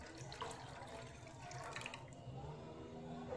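Water poured from a glass into a cooking pot already holding milk for lauki kheer, a faint continuous splashing and trickling close by, with no talk.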